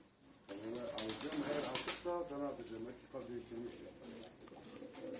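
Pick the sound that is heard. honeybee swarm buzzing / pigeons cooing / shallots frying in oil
pigeons cooing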